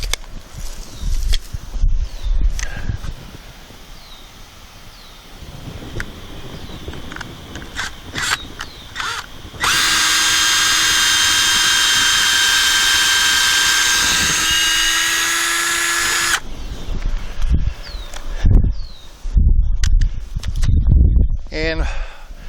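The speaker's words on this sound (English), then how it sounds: "what I'm going to do now is drill in a pilot hole" A power drill whines steadily for several seconds drilling a pilot hole, loud and close, between stretches of rustling and handling noises.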